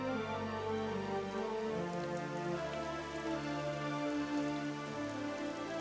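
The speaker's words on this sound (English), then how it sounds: "More rain, no." Rain falls steadily in Dragon Quest XI, a continuous even patter on surfaces layered over sustained game music, with no pauses throughout.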